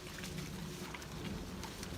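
Steady rain falls in a continuous outdoor wash with a few scattered patters, no voices, as a wet morning shower begins tapering off near a field where Cane Corso dogs are kept.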